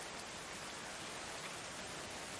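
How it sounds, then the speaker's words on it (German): Steady, dense rain falling in the medieval colony-building game Going Medieval, a soft uniform hiss that stays constant and alone throughout. "Mö ist jetzt schon, sitzt im Regen. Warum setzt du dich in den Regen, Bubi?"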